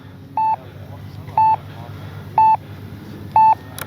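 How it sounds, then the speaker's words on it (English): An RC transmitter's flight timer alarm sounds during a flight of a Flightline 1600mm P-51D Mustang warbird model: four short, identical electronic beeps spaced about a second apart over steady outdoor background noise. "Timer expired."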